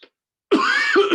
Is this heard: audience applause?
no